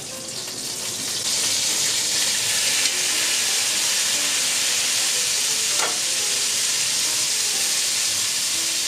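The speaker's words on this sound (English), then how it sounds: "you're going to add all of your tomatoes into the pan, right over all of the stuff that's cooking" Tomatoes sizzle loudly in a pan over onion and garlic for eggs in purgatory, a steady close hiss and fry that builds after the first second and holds evenly to the end.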